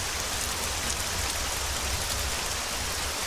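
Steady rain in Arma 3 falls as a dense, even hiss across the whole stretch, with no breaks or distinct drops standing out.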